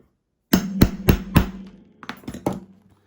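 A hammer tapping to set an 8mm rivet on a satchel bag, three firm close knocks in steady rhythm, a short pause, then a few quicker lighter taps before it stops.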